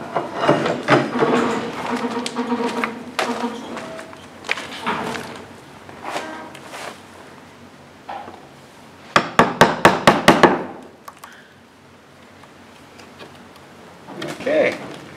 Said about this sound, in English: I think I'm going to need a hammer to get that out.